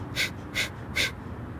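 Three sharp, forceful yoga breaths pushed out through the nose, evenly spaced and close, with quiet gaps between.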